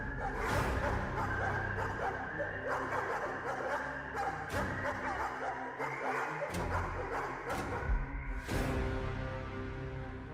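Dogs bark repeatedly in a fantasy tabletop game set near a southern dome of fog, loud sound-effect yips and bow-wows running steadily with no talk over them.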